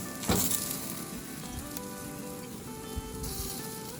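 Pork steaks sear on a grill with a steady, loud sizzle and crackle that fills the whole stretch, plus a few sharper pops and no voices.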